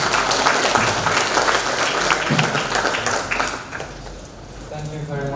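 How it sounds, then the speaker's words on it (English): Audience at the UNS Taiwan job fair applauding a speaker: a dense, loud, steady wash of many hands clapping together, easing off and thinning toward the end. "Give applause for our speaker."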